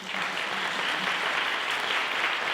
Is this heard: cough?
no